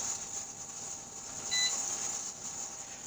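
A Presto electric canner processing chicken gives a short, high electronic beep midway over a faint, steady background hum, with no talking.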